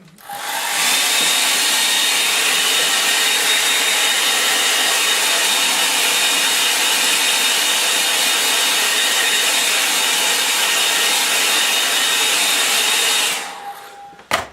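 A hair dryer blows steadily on a wet watercolour wash, a loud continuous whooshing roar held for about thirteen seconds before cutting off, followed by a faint click.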